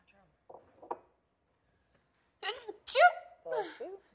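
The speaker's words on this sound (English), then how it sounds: "I always think that's a fake sneeze." A person sneezes in the Big Brother 20 reality-TV house. Soft vocal sounds come first, then sharp, close sneeze bursts and voices near the end.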